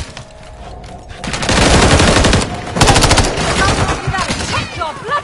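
Automatic gunfire from the video game Call of Duty: Modern Warfare 3, loud, sustained bursts of rapid shots that come in two heavy waves with brief lulls, plus scattered game effects near the end.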